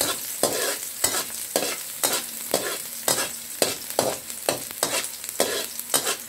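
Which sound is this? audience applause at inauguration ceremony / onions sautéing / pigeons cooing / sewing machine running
onions sautéing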